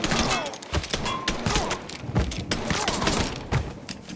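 Shotgun blasts in the video game Mafia 3 on PS5 during a heist shootout, with repeated booming shots and dense firefight noise layered under shouting voices.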